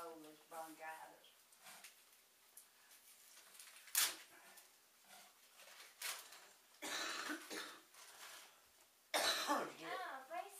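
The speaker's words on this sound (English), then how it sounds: "Y'all hear me coughing," Several harsh bronchitis coughs burst out at intervals between brief stretches of nearby talking, some loud and sharp, others raspy and throaty.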